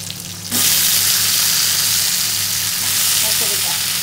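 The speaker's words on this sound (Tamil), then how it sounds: "இந்த நல்லா வதக்குங்க" Onion and leftover ingredients sizzle loudly in a pan as they are sautéed for a green gravy, the frying hiss starting abruptly and staying strong and close throughout, with no voices.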